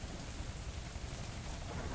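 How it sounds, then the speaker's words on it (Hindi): Steady rain pours in an Indian tractor farming simulator game, a dense, continuous hiss of falling water with a low rumble beneath, loud and unbroken throughout. "बारिश भी हो रही थी धीरे धीरे"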